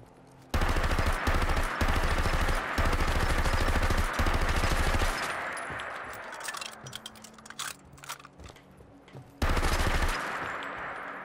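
A Thompson submachine gun fires loud, sustained automatic bursts in a modded Fallout 4 game. Several long bursts are broken by brief gaps, then a quieter stretch follows before one final short burst.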